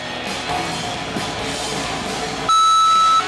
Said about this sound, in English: Another sprint and leap to the buzzer on the finish line here, folks.